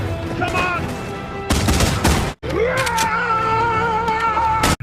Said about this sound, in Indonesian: Billy dan Goodnight tewas akibat peluru Gatling yang tepat mengenai mereka berdua